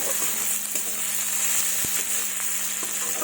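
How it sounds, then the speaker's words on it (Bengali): Sliced onions sizzling and frying in oil in a pan, a steady dense crackle with a few sharper pops, close and continuous with no talking. "পেঁয়াজগুলো লাল লাল করে প্রায় ভাজা হয়ে গেছে"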